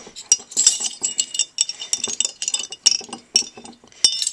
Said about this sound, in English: And then I'll go ahead and mix the salt.